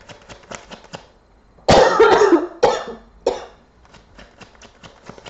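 A single harsh, loud cough breaks out near the microphone, followed by a couple of smaller coughs, with quiet ticking sounds before and after.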